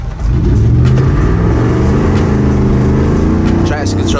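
A tuned, lifted Ford F150 with a 5.0 V8 and an E85 tune accelerates hard from inside the cab, its exhaust roaring loud and steady for several seconds, with voices talking over it.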